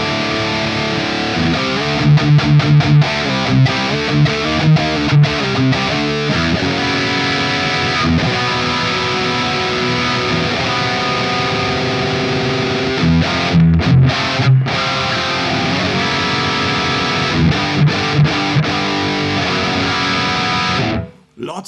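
An electric guitar runs through the ML Sound Lab ROOTS V2 amp plugin on its default setting, a loud, heavily distorted riff with chugging palm-muted bursts and sustained chords, continuous for about twenty seconds before cutting off.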